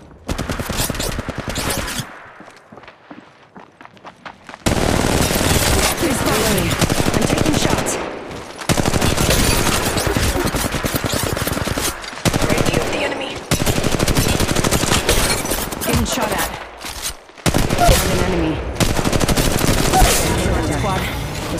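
Rapid automatic gunfire from Apex Legends Mobile rattles loud and close in long sustained bursts, broken by short pauses, with a brief quieter stretch early on and game sounds mixed in.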